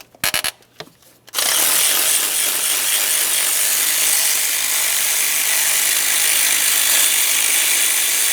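A ratchet works on a starter mounting bolt of a 2007-2017 Jeep Patriot with the 2.4L four-cylinder, giving a few sharp clicks before a loud, steady, close whirring rasp that holds to the end.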